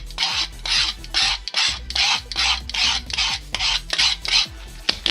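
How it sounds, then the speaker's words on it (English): A hobby knife scraping and beveling the edges of foam-like terrain hill pieces, a steady series of rhythmic rasping strokes close up, about a dozen in quick succession with no talking. "take a regular hobby knife and cut these pieces off and then gently bevel the edges"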